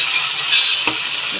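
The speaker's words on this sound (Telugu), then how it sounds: "ఇప్పుడు ఇది టమాటా ముక్కలు దాంట్లో పోసేస్తాను." Tomato pieces poured into a hot pan for a tomato pickle, giving a bright steady sizzle with a brief louder hiss and a single soft knock of the utensil, close up and without talk.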